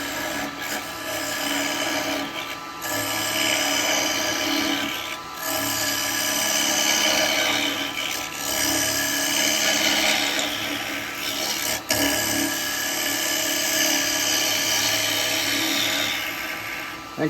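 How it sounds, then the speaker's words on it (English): Wet eucalyptus is cut on a wood lathe with a carbide turning tool as a bowl is hollowed. Close, continuous scraping and hissing runs over a steady motor hum, with brief dips as the tool lifts off the wood. "carbide is lovely for turning wet wood"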